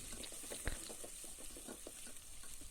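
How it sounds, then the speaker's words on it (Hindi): Chopped onions fry gently in melted ghee, giving a faint, soft sizzle sprinkled with small crackles and pops, heard alone at low volume. "इन प्याज को हमने भूनना है अच्छी तरह से"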